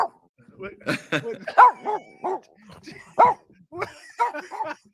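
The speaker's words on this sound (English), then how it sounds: "Why are you barking?" Short yipping dog barks mixed with people talking nearby, the barks coming in quick irregular bursts under and between the voices.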